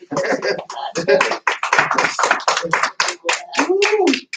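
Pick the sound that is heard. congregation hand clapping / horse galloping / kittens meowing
congregation hand clapping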